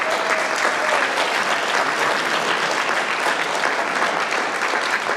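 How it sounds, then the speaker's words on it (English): An audience gives sustained, even applause for the Case Men's Glee Club at an alumni celebration and awards event, dense clapping filling the room at a steady level from start to finish. "can we give another round of applause to the Case Men's Glee Club?"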